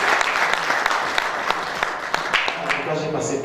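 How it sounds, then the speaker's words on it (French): Audience at a couples' dinner conference applauds in a steady wash of clapping with a few sharp individual claps standing out, lasting a few seconds with faint voices beneath. "Mérite des applaudissements."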